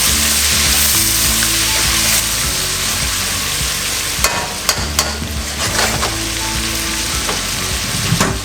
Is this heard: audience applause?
no